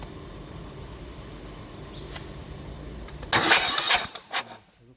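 Rou650 compactor engine under repair being started: quiet low rumble at first, then a loud burst as it cranks and catches for about a second, followed by a couple of sputters before fading.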